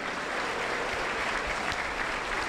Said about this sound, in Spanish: Aplauso para Cristo Jesús.